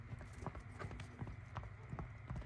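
Hooves of a smooth-gaited 11-year-old saddle horse gelding being ridden and neck-reined, a steady run of close, dry clip-clop footfalls in a quick even rhythm, with faint voices in the background.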